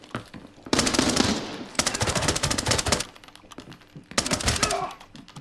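Rapid bursts of MP5 submachine gun fire in the shooter game Arena Breakout: Infinite: three loud sustained bursts separated by short pauses, each a fast stream of sharp cracks.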